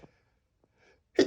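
A single stifled sneeze bursts out short and sharp at the end, after near silence broken by a faint breath and a small catch.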